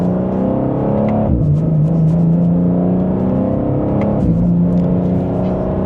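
A 2026 BMW M2 with a 473 hp twin-turbo engine accelerates hard in second gear in Sport Plus mode, its engine note climbing loudly from inside the cabin, with two quick upshift drops.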